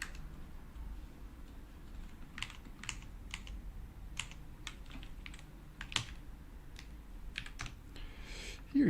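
Fast, quiet typing on a computer keyboard, with irregular bursts of crisp key clicks and short pauses, heard alone and close up.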